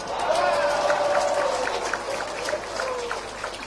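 Applause from a crowd of volunteers at a national working meeting while Jokowi speaks: dense clapping and crowd noise swell early and then persist at a moderate level, with faint cheering mixed in.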